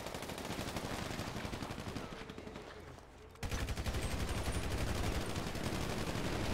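Rapid automatic gunfire in GTA rattles in dense, loud bursts, stops briefly, then resumes just as hard. No one talks over it.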